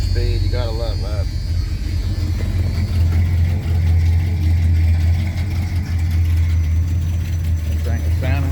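A Dodge 4x4 truck with a factory four-speed and a swapped 360 engine idles with a steady low rumble, close and continuous, while people talk over it.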